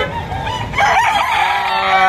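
A rooster crows once, loud and close, at a crowded poultry market, the call rising out of a background din of clucking and market noise.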